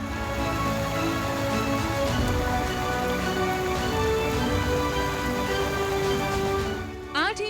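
Heavy monsoon rain pours onto a flooded highway at Lakhani in Banaskantha, Gujarat, a steady dense hiss throughout, with a voice and tonal sounds running over it.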